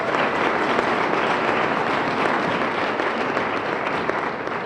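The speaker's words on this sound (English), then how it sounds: "So a huge round of applause for all of you just for being here today." Volunteers at an MLK Day of Service event give a sustained round of applause, a dense, steady wash of many hands clapping at close range throughout.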